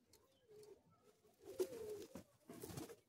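Tournament pigeons cooing close by, a few soft throaty coos rising in short bursts over a quiet background, with no talking.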